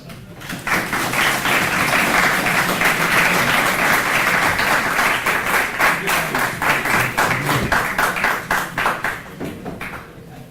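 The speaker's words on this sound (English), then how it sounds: "Please join me with a round of applause" An audience at a university keynote talk breaks into loud, sustained applause that swells quickly, then thins into scattered, rhythmic claps as it winds down.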